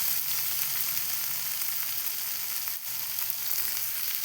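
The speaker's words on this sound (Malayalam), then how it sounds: "ഇനി ഞാനിതിലേക്ക് കറിവേപ്പില ഇട്ട് കൊടുക്കുന്നുണ്ട്." Curry leaves sizzle steadily in hot oil in a pan while a Kerala pappadam curry is being made, with a continuous close frying hiss and no voices.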